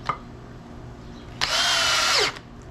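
A cordless drill set to its highest clutch setting, 23, drives a screw deep into the material in one steady, loud whine of just under a second, with a brief click before it and quiet afterwards.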